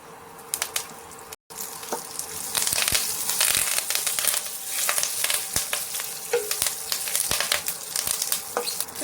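Curry leaves crackle and sizzle in hot oil for a poha pulao, a dense, steady spattering with sharp pops and a brief stir, close and loud after a short gap near the start.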